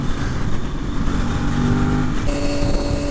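Traffic passing on a Florida road, with a steady loud roar of cars and motorcycles and an engine note that shifts upward partway through, close and continuous, with no talking.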